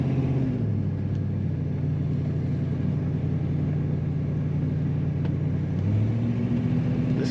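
A 1975 Ford Mustang II Ghia engine drones steadily while driving, a close, continuous low hum with road rumble, its pitch dipping early and rising again near the end as the revs change.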